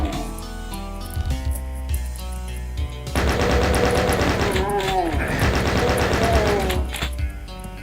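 Video game gunfire rattles in rapid, dense bursts over loud game music and effects, the shooting swelling midway and continuing steadily to the end.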